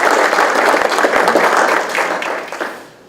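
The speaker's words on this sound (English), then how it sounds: "So let's just give her a big round of applause anyway." An audience at a healthcare seminar breaks into hearty applause, a close, full burst of clapping that holds for a few seconds before tapering off.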